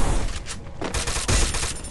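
Rapid bursts of gunfire crackle in quick succession, loud and dense, like a firefight in a game.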